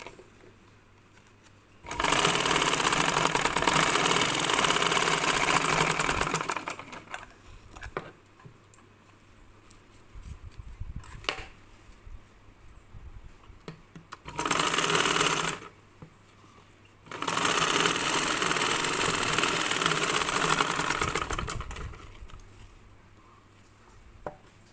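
A sewing machine stitching a blouse runs in three loud, steady whirring bursts of several seconds each, separated by quieter pauses with faint handling clicks and rustles, and no talking.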